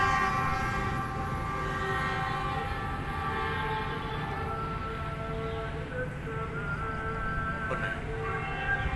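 Wijaya Kusuma passenger train passing the Pagerwojo shelter toward Surabaya: a loud, steady rumble of rolling wagons runs throughout, with sustained horn-like tones layered on top.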